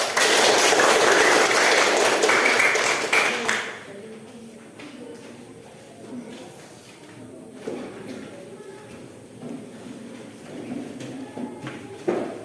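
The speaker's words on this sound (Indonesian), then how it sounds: "Tepuk tangan untuk kelompok ini." Classroom of teacher trainees applauding a presenting group, brisk clapping for about three seconds that then stops, leaving quiet room noise and a few light taps.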